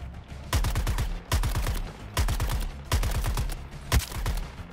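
Rapid bursts of gunfire in the video game Suicide Squad: Kill the Justice League, five or six clustered volleys of sharp repeated shots in quick succession, loud and close, with no talk over them.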